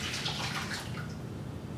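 About 16 ounces of water pours steadily into a container, a continuous splashing rush with no talk.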